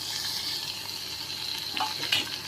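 Diced tomato sizzling and frying in a pan for tomato chutney, a steady close crackling hiss with a few brief stirring scrapes.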